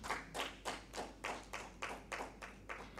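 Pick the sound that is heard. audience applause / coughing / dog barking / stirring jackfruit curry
audience applause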